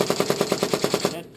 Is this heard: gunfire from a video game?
yes